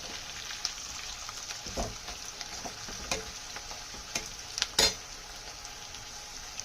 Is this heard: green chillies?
yes